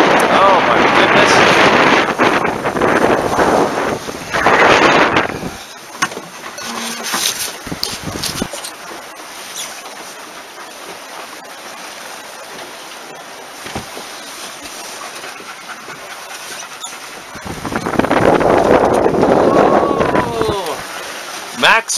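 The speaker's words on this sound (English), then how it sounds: "here we are back in the strong winds here" Strong wind buffeting a heeled-over sailboat on a cold February day, loud gusty roaring and microphone rumble in bursts at the start and end with a quieter stretch of water and rigging noise between, and a voice speaking.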